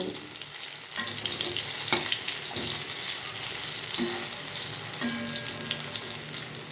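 Steady oil sizzling with ridge gourd fritters frying throughout, a dense crackling hiss with a few soft clinks and knocks scattered across it.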